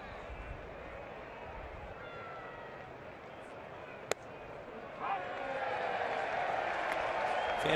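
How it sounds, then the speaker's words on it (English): Ballpark crowd at a Pittsburgh–Philadelphia baseball game rises into a broad derisive cheer midway through, swelling and holding loud over steady crowd murmur and an announcer's voice. "Fans give him a derisive cheer"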